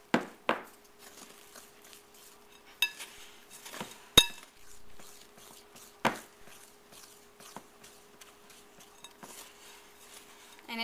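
Sugar skull dough being mixed in a bowl gives scattered clinks and sharp knocks of a utensil against the dish over a quiet background, with no talking.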